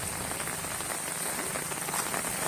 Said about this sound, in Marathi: पावसाचा वेग बघा किती आहे